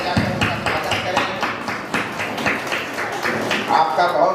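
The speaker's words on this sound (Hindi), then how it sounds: "मैं आप सबों से आग्रह करता हूँ कि आप तालियां बजाकर उनका स्वागत करें।" An audience at a college farewell and felicitation ceremony claps to welcome an arriving guest, a steady patter of hands that is close and moderately loud and continues throughout.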